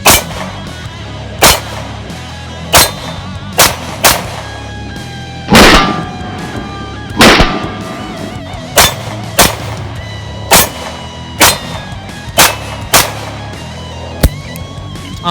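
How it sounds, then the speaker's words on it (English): A 9mm Arcus 98DAC pistol fires over a dozen sharp shots at steel plates, loud and close, spaced irregularly with short pauses, with no talking. "Now I'm just gonna shoot a little bit and see what we get on these steel plates back here."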